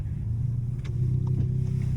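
A five-cylinder sedan drives past with a steady low engine rumble, moderately close and constant throughout, without anyone speaking.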